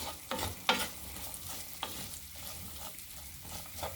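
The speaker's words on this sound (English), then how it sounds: "So let's fry that up a bit." Whole spices such as cinnamon sticks, cumin, bay leaves and curry leaves frying with onions in a pan, a steady soft sizzle broken by a few sharp stirring scrapes and clinks.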